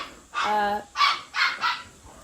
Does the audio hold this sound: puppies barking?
yes